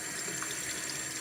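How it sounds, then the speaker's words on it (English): Tap water runs through a shower head being descaled of hard-water calcium deposits, a steady, soft gushing hiss with no breaks across the short moment. "I just want to put a bit of water through it"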